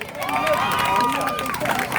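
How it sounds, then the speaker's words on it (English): Crowd at an outdoor poetry event in Ogden Park, Chicago, applauding and cheering a performer, a steady spatter of clapping with voices and whoops mixed in, moderately loud. "Give her a nice round of applause."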